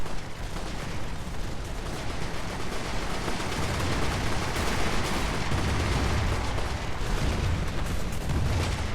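Landships trade continuous gunfire in the strategy game Airships: Conquer the Skies, a dense, steady roar of overlapping shots and blasts with no clear gaps, loud throughout.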